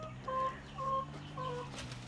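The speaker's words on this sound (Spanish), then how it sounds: "Aquí la gallina está echada." Brooding hen sitting on eggs, clucking three times in short rhythmic bursts, close by but fairly soft over low background noise.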